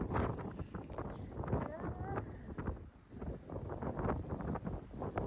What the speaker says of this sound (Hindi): बट बहुत तेज हवा चल रही है।